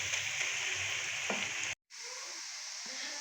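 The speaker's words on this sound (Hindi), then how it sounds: "प्याज को थोड़ा सा गोल्डन करेंगे।" Onions for chicken pulao fry on a high flame, giving a steady, close sizzle that continues on both sides of a very brief break, with no talking.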